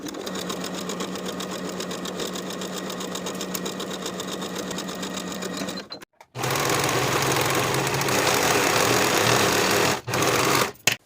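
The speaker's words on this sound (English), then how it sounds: "Sew the side seams from the underarm to the bottom of the dress with a 1/2 inch seam allowance on both sides" A sewing machine stitches the side seams of a flowing summer dress in two long, loud, steady runs with a brief stop between them, and a short pause near the end of the second run.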